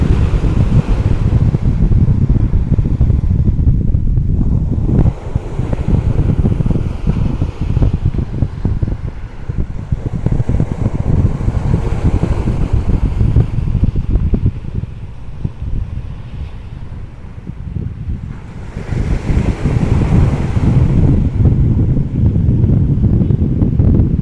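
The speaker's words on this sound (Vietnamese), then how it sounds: "Những con sóng rất là đẹp nha" Ocean waves surge and break continuously along a crescent-shaped city beach at Quy Nhon, Vietnam, while heavy wind buffets the microphone. The roar is loud, with swells building and easing over about twenty seconds.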